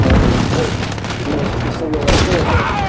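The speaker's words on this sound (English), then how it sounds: "Precision airstrike, take cover." Precision airstrike in Call of Duty: Modern Warfare on the Shipment map, a dense run of loud booms and rapid gunfire packed close together, with a brief sharper blast near the end.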